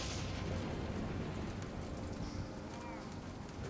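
Steady heavy rain pours down in a Jurassic Park game storm, with a low rumble of thunder rolling underneath. A voice speaks briefly over the downpour.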